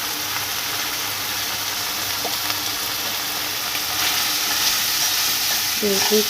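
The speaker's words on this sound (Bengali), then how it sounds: "দিয়ে দেবো হলুদ গুঁড়ো আর দেবো লঙ্কার গুঁড়ো" Egg curry masala with turmeric and chili powder sizzles steadily in a pan while being stirred, a continuous frying hiss with occasional scraping, close and moderately loud, with no talk.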